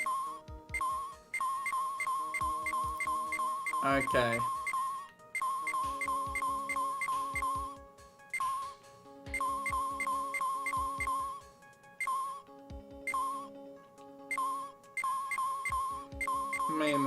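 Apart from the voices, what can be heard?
radio wave detector pinging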